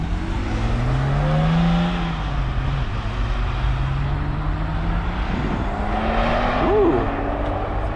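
Several Porsche 911 sports cars pull out together at Newcombs Ranch, their engines rumbling and rising in pitch as they move off close by, with someone talking over the steady engine noise.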